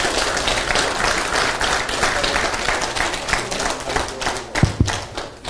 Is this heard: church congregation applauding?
yes